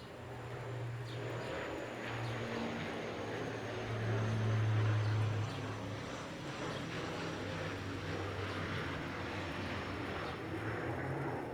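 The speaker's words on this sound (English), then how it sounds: "Oh, and the plane that just flew overhead?" An airplane drones overhead, a low steady engine rumble swelling then fading, mixed with the patter of rain falling on a backyard trampoline.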